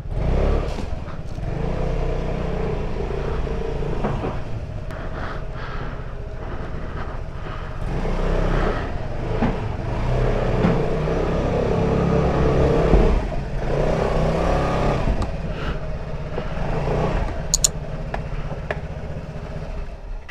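A motorcycle engine idles and revs nearby, a steady rumbling drone with brief swells, before being moved inside a house.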